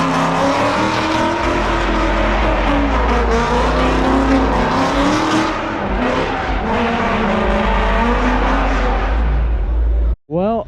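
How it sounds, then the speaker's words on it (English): A car, a hardbody pickup, doing donuts and skids, with a loud sustained engine roar rising and falling in pitch under continuous tire noise, close by, with voices talking over it before a sudden cutoff near the end. "maybe we'll do some donuts at this one"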